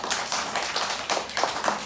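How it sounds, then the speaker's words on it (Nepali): Hands clap in a quick, uneven rhythm close by during a Nepali children's rhyme, a run of sharp slaps repeating over a couple of seconds. "ल ताली बजा ताली ताली ताली"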